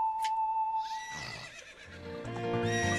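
A horse in the video game The Legend of Zelda: Ocarina of Time gives a loud, shrill whinny that rises and falls, followed by bright game music with chiming tones.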